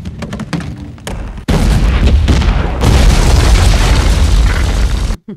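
A big explosion from The Hunger Games film: a sudden loud boom after a few quieter moments, followed by several seconds of dense, rumbling blast noise before cutting off sharply.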